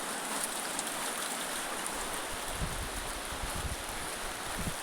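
Rain falls outdoors on a wet path in a steady, fairly quiet broadband patter, with some low rustling thumps like footsteps near the end.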